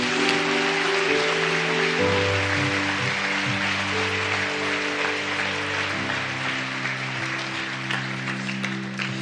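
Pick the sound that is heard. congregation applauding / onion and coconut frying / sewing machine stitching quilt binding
congregation applauding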